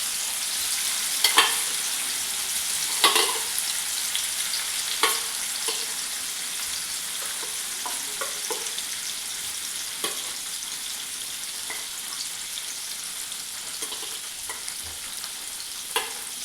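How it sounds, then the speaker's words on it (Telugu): Paneer pieces fry in a pan with a steady, soft sizzle, broken by a few light clicks and taps from the utensils over about sixteen seconds. "పన్నీర్ యాడ్ చేసుకుంటూ మనం ఫ్రై చేస్తాం."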